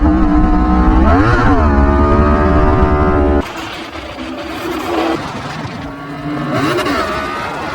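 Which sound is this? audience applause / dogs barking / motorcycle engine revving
motorcycle engine revving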